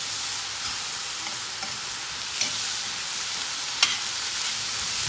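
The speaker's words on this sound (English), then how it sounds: "I'm just getting these guys sauteing here" Vegetables sautéing in a hot pan for a vegan burrito grain bowl give off a steady, close sizzle with a few small clicks and pops, no voices.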